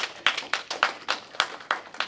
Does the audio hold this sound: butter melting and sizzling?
no